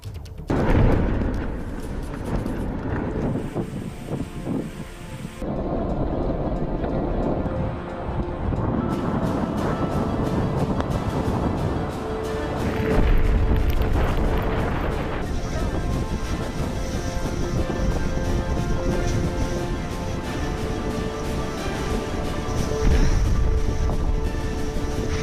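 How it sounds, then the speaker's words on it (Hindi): Strong winds and storm noise from Cyclone Yaas striking coastal Odisha and West Bengal, a steady loud roar of gusting wind and rain with rumbling surges, under a continuous voice-over. "यास तूफान के टकराने से पहले ही तेज हवाएं और बारिश संकेत दे रही थी कि खतरा कितना बड़ा है।"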